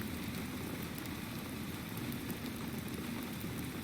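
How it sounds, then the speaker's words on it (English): Steady, dense rain patter with a broad hiss, fairly loud and continuous throughout, with no voices. "The rain seems to be getting louder again."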